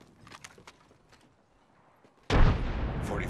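A frag grenade goes off in a battle royale shooter game, a sudden loud blast after scattered quiet footsteps and small clicks, its rumble trailing on to the end.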